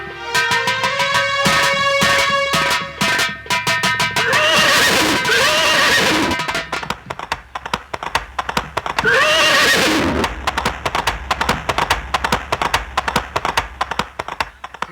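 Horse whinnies loudly twice during a nautanki folk-theatre scene, each neigh rising then trailing off, while steady hoof clip-clops and taps run beneath, joined by a harmonium-like tonal phrase at the start.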